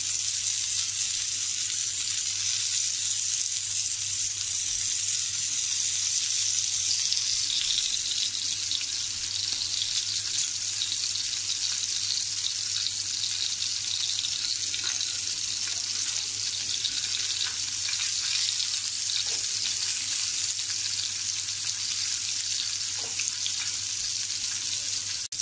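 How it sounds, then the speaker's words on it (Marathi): Prawns frying on a tawa griddle with oil added at the sides, giving a dense, even hiss and crackle that runs steady and close for the whole stretch, with no speech. "हे बघा, आता मी सगळ्या अशा कोळंब्या तव्यावरती फ्राय करायला ठेवल्या आहेत."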